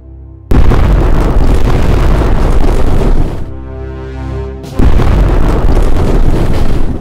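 Cannon fire sound effect evoking a Victorian coastal fortress's defences: two long, loud, roaring booming blasts separated by a short rumbling lull, with no talk.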